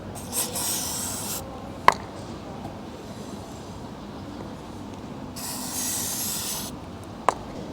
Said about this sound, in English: just hold a rag behind it and spray in segments.